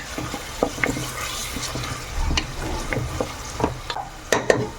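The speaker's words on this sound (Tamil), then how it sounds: "இது வந்து நல்லா ப்ரௌன் கலராக நல்லா ஃப்ரை பண்ணிக்கோங்க ஃப்ரெண்ட்ஸ், இந்த ஆனியனை." Onions fry in a pan for mutton curry, a steady close sizzle broken by repeated stirring scrapes and clacks of a utensil over about five seconds, with no voices.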